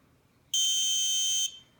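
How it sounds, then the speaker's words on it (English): A single steady electronic buzzer tone sounds loud and shrill for about one second, then cuts off, with quiet before and after. "you can hear the buzzer sound for 1 second"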